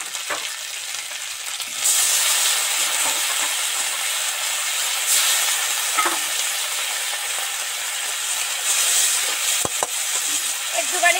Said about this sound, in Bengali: এবার এর মধ্যে একটুখানি সামান্য জল দিয়ে দেবো।